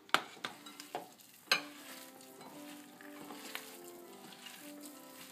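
Onions for an aloo paratha potato filling hit the hot pan with a few sharp clatters, then settle into a soft, continuous sizzle with light stirring, fairly quiet and up close.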